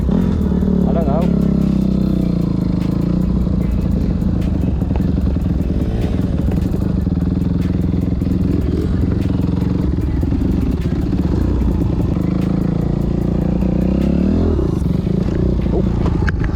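Dirt bike engine running in a skatepark, a loud, steady, close droning rumble with shifts in pitch and rattling clatter, heard under ongoing speech.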